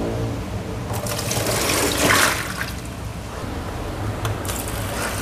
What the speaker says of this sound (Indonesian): Kita bilas lagi dengan air bersih.